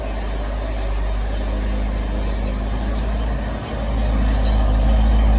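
A Ford Bronco truck engine runs steadily close by, a continuous low, heavy rumble with a slight dip partway through, holding a constant level with no talk over it.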